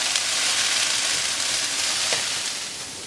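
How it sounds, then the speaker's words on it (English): Vegetables stir-frying in a wok at very high heat give a loud, dense, continuous sizzle, close and steady, with no voices. "The other thing with a wok is that it cooks the vegetables at a really high heat"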